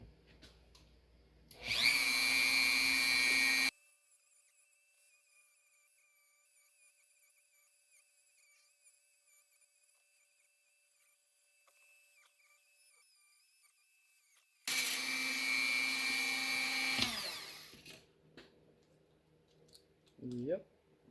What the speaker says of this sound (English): I'm going to have to work with the little wire cutoff to take off the rest here.